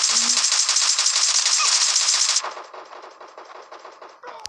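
Rapid automatic gunfire from the battle royale video game PUBG, a loud dense burst for over two seconds, then quieter scattered shots and rattling game noise trailing off alone.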